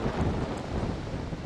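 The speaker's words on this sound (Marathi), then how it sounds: "या ठिकाणी पाऊस बरसतोय, पावसाचा जोर वाढतोय।" Heavy monsoon rain pours steadily in the Konkan coastal region, a dense continuous hiss with low rumbling and wind buffeting the microphone throughout.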